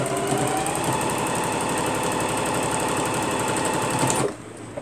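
A sewing machine stitches down a round bag, running fast and steady with a dense mechanical chatter close by, then stopping abruptly near the end.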